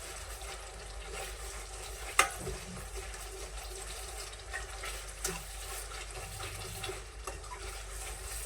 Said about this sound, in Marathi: अजून थोडस होऊ देणार चम्मच फिरवतच राहायचा